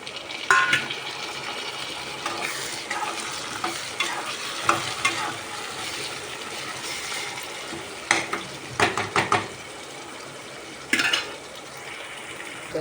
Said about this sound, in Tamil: வெங்காயம் நல்லா வதங்கிடுச்சு நம்ம அது கூட தக்காளி கட் பண்ணி வச்சு ரெண்டு தக்காளியும் சேர்த்துக்கலாம்